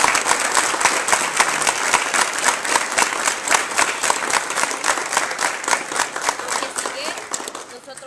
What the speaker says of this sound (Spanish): Yo creo que merece un fuerte aplauso él para todos.